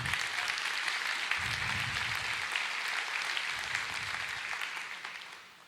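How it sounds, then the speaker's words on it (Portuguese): A church congregation gives a sustained round of clapping that stays steady for several seconds before fading out at the end. "Aplausos, Senhor."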